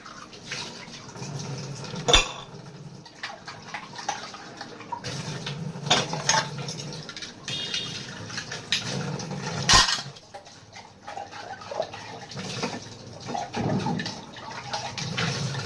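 Old pots and vessels are washed with a homemade organic dishwash liquid, water running and splashing from a tap with clanks of metal vessels, in bursts separated by short pauses.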